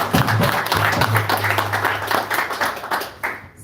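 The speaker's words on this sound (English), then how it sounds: "Let's give Mataji another round of applause." An audience at a devotional gathering gives Mataji another round of applause, with a steady wash of many clapping hands and a faint voice humming underneath.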